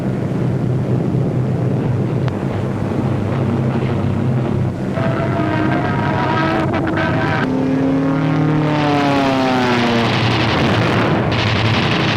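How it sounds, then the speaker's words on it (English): P-47 fighter planes in 1944 aerial combat make a loud, continuous engine roar, with pitch sweeping up and down as aircraft pass close by. "German fighters attempting to intercept the heavy bomber attack are shot down by P-47s."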